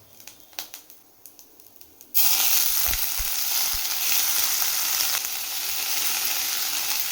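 Banana stem added to a pan of lentils, then a loud, steady frying sizzle with stirring scrapes; a few light clinks come before the hiss starts.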